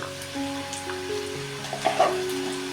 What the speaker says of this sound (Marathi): हे बघा वाटण चांगलं मी परतून घेतलेलं आहे आणि चांगलं तेल पण सुटलेलं आहे